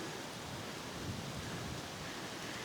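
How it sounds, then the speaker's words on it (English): Steady rain falling on a hill walk above Kelburn Glen near Fairlie in Scotland, with low cloud overhead; a continuous, even hiss with no pauses and no voices. "It's really unfortunate that the clouds are so low and it's raining."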